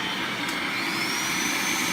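A shop vac running as a dust extractor at a nail tech's station gives a steady, close, loud suction roar with a faint high whine, continuous and unchanging throughout.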